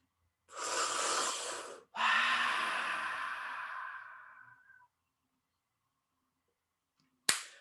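Two forceful breaths in a Tumo breathing exercise, close and loud: a sharp inhale that stops abruptly, then a long rushing exhale fading over about three seconds, followed by silence and a brief click.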